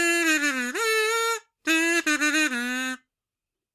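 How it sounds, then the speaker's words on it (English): A kazoo, the small tin buzzing instrument, plays two loud nasal phrases with sliding pitch, broken by a short gap and ending in silence. "and play the kazoo."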